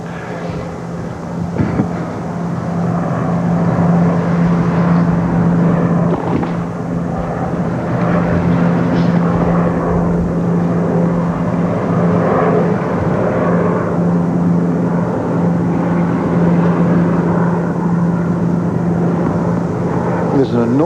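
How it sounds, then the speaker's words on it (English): A propeller airplane drones overhead above an outdoor tennis final, a steady loud engine hum with a low tonal whine lasting throughout, while a crowd and voices murmur underneath. "There's an annoying plane overhead, always is, seems to be around finals"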